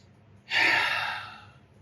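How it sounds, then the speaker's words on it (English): A single deep breath, a close, breathy rush of air that swells suddenly and then trails off slowly over about a second, alone against quiet background. "Take a deep breath."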